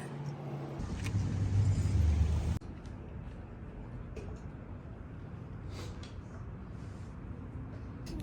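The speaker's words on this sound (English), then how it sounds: "all of the trucks zooming behind us" Heavy truck traffic rumbles close by in Colorado, a loud truck roaring past at first, then a steady wash of road noise with no talking.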